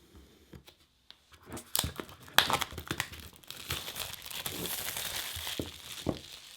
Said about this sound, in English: let's just peel this plastic away here since the shine is pretty prominent